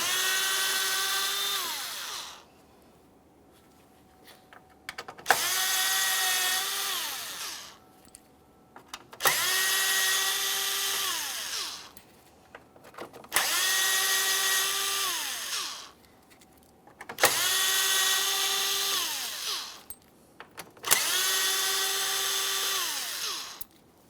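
A power drill removes T15 screws from the front grille of a 2017-2024 GMC Acadia, whirring in six bursts of about two to three seconds each. Its pitch rises and then falls as each screw backs out, with short quiet gaps between.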